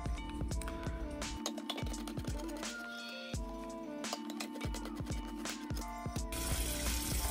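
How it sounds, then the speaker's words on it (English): Beans rinsed under a running kitchen tap until the water runs clear, a steady stream of water splashing with faint clinks of a pot or bowl, close by and without talk. "I'm just kind of rinsing them off until the water comes out clear."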